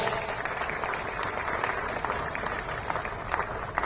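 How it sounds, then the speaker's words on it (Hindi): Crowd at a coaching centre inauguration in Patna applauding during a lamp-lighting ceremony, a steady roar of many hands clapping with scattered sharper claps, sustained and fairly close. "तो जोरदार तालियां"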